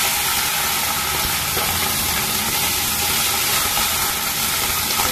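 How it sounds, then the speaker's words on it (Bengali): Chopped onion frying in a pan for a Bengali small-fish chorchori, giving a steady, loud sizzling hiss that runs unbroken and alone throughout. "পেঁয়াজটা একটু ভাজা ভাজা করে নিচ্ছি।"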